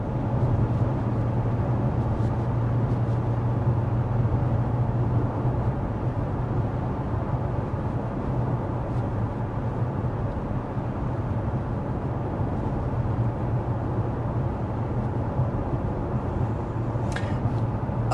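Steady broadband road and wind roar inside a 2024 Mazda CX-5 cruising at 55 mph with the climate fan on its lowest setting, a constant low hum with a faint tonal drone, continuous and unbroken throughout.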